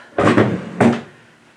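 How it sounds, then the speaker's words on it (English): A drawer is pulled open or pushed shut in two quick wooden knocks close by, the second followed by a short rattling tail. "Let me get it out of this drawer here."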